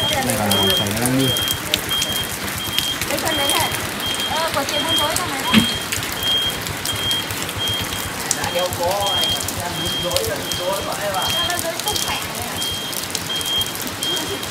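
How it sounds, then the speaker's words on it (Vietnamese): Rain falls steadily outdoors, a dense, even hiss lasting throughout, with people talking over it. "Đây là trời nó đang mưa."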